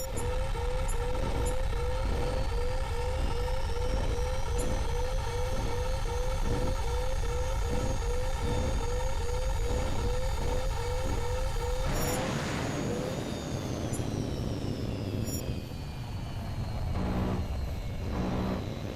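Jet aircraft in the video game HAWX 2, a loud continuous engine roar with a rising whine, layered with a repeating electronic alarm tone for the first half before the sound shifts to a rougher rushing turbulence.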